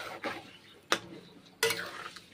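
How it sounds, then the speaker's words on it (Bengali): A spatula stirs and scrapes mutton masala frying in a pan, giving a few sharp metallic scrapes and clinks over a low sizzle, close and moderately loud. "খুন্তি করে নেড়ে চেড়ে কষে নেব"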